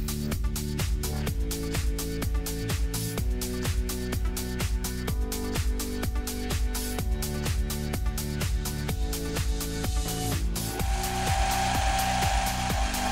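A thin 0.8 mm cutting blade in a home machine shop saws a slot in a clock pendulum part. A rapid, rhythmic chattering pulse with a tonal ring carries on steadily, then shifts to a smoother, higher whine near the end.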